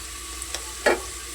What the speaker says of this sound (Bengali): তো হলুদ দিয়ে নিয়ে তারপর কিছুক্ষণ নাড়াচাড়া করব।